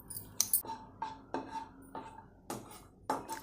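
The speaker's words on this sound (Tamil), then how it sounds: "அடி கனமான பாத்திரம் எடுத்துக்கோங்க" Heavy-bottomed metal cooking pan handled in a kitchen while making mango kesari, several distinct clanks and scraping knocks at irregular intervals, close and moderately loud, with no talk.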